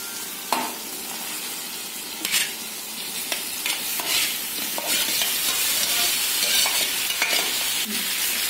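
Pasta stirred and tossed through a sauce in a frying pan: a steady close sizzle with repeated scraping strokes of a spoon against the pan, with no talking.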